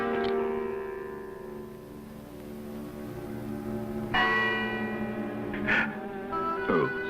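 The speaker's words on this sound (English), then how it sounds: "Scrooge awoke to the chimes of a neighboring clock." A neighbouring clock chimes in a 1971 animated adaptation of A Christmas Carol, bell-like tones ringing out over a sustained musical score, with a few distinct struck chimes standing out near the end.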